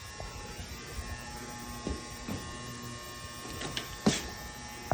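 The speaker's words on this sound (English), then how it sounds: "That annoying sound in the background is my ultrasonic tank." Ultrasonic cleaning tank running in a workshop during a pipe clean, a faint steady electrical buzz and hum in the background, broken by a few small clicks and knocks.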